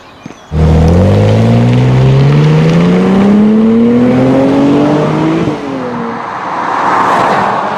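A Mercedes-Benz C-Class Coupé engine turns over and catches at once, then revs steadily upward as the car pulls away, loud and close, easing off briefly near the end.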